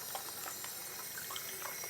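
Tap water running steadily into a sink while an aquarium sponge filter is rinsed, a continuous close splashing hiss with small gurgles, no voices.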